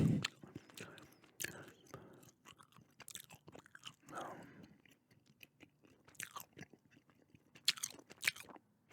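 Gum chewing close to the mic, quiet wet clicks and smacks in an irregular rhythm, with occasional sharper snaps and soft scrapes, no voice.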